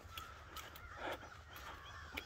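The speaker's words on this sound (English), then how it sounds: "On my way back, look at the birds." Crows caw several times in a nature preserve forest near Dunnellon, Florida, heard as repeated harsh calls at moderate distance over a faint steady outdoor hum.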